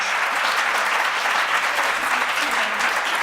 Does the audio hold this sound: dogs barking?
no